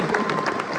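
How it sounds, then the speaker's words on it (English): A live theater audience at a Bear Grylls touring stage show claps and cheers for a boy called up on stage, a dense, steady wash of applause filling the hall for under a second. "give Jack a big round of applause"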